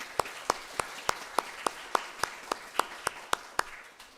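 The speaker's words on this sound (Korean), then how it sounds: "우리 목사님 사모님 또 기쁨이 일어나서 주시면 박수로 환영하겠습니다" A church congregation at a Sunday service claps in a slow, even rhythm, about a dozen crisp claps spaced roughly a third of a second apart, fairly faint and with no talk over them.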